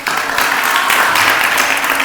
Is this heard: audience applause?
yes